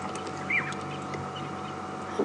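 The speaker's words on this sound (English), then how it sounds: "starlings chirping away." Birdsong in African bush at a game reserve during an evening safari drive, with a few short chirps and a brief rising call over a steady background of insects and distant birds, fairly faint.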